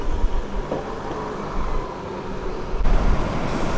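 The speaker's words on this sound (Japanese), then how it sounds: "伊予鉄道の路面電車、" An Iyo Railway streetcar rolls through the streets of Matsuyama, Ehime, with a steady, fairly loud rumble of wheels and motor that shifts in tone toward the end. No voices are heard.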